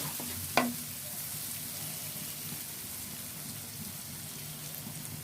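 Spices with a pinch of turmeric fry and sizzle steadily in hot oil for achari eggplant, with a single sharp utensil clink near the start and a constant hiss running through.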